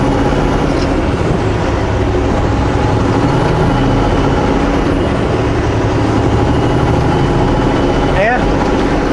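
A truck maneuvering through a turn past a dumpster, its engine a loud steady rumble throughout with a brief squeal near the end, close by.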